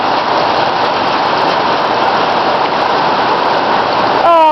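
Hailstones pelt down in heavy rain, producing a loud, dense, unbroken roar of impacts that barely varies, with a brief higher-pitched noise right at the end.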